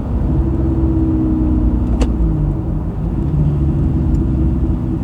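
A Suzuki Grand Vitara 2.4L fitted with a custom 2.5-inch stainless steel exhaust pulls hard under acceleration, giving a steady, loud low-pitched engine drone with a brief sharp tick midway and no talk.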